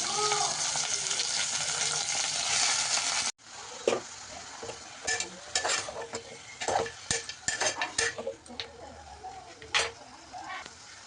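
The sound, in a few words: chicken and onions frying in a pan, stirred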